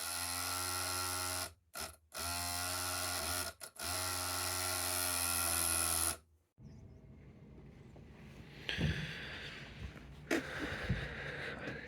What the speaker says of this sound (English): we've got a bit of a noisy in-tank pump